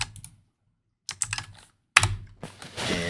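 Typing a git clone command on a computer keyboard: three quick bursts of close, crisp key clacks separated by short pauses, the last burst trailing into a softer run of clicks.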